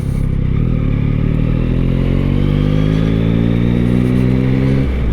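Yamaha MT-09 2023 motorcycle ridden on the road, its engine loud and close throughout with a steady drone that climbs in pitch as it accelerates, plus some rattling clatter.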